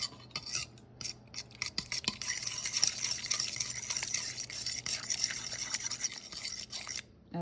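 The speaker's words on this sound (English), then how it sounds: "And it says to mix with a fork." A fork stirs a tamari soy sauce mixture, making a continuous, close scraping and rubbing with quick, busy strokes that run almost without pause until a short stop near the end.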